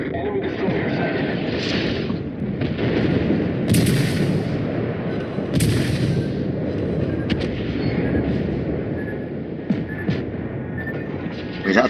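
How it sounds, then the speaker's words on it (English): Explosive naval combat in World of Warships with a torpedo striking a warship below the waterline, booming blasts near 4 and 5.5 seconds over a constant rumble of gunfire and engines, while a player talks throughout. "Is that a torpedo?"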